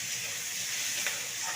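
Fenugreek greens hit a hot pan with a steady, close frying sizzle, a bright hiss that holds evenly from start to finish with no voices.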